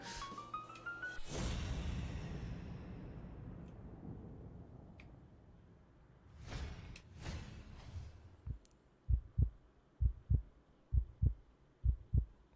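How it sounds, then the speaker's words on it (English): A heartbeat thumps in the video game Blacksad: Under the Skin, low doubled beats arriving in a steady rhythm after a swelling whoosh and a few fainter sounds. "Okay, so that's his normal heart beating, I guess."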